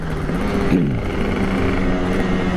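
A two-stroke motorcycle engine revs loudly and steadily up close, with a brief dip and surge as the clutch slips, on a group Sunday ride of two-stroke bikes in Garut.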